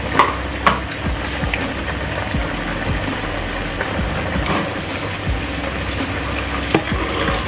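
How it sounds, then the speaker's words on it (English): Akara bean fritters frying in a pan of hot oil, a steady close sizzle and bubbling throughout with a few light clinks and stirring taps, no talking. "so we are frying our akara now."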